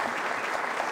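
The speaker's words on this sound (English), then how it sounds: "Please give them a round of applause for helping out." A quick burst of crowd clapping, dense and even, under a second long, thanking community helpers at a gathering; no voices are heard over it.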